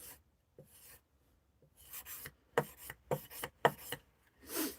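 An old rusty axe head being hand-polished up to 1500 grit, heard as rhythmic close rubbing and rasping strokes that start sparse and grow into a steady series of loud bursts, with no voices.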